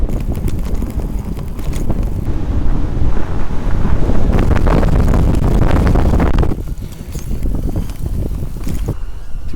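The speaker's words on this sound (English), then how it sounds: "A little windy today." Strong wind buffets a microphone while someone rides a bicycle on the road, a loud continuous roar with gusty surges that eases briefly near the end.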